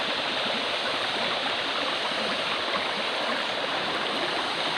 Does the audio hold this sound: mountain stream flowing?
yes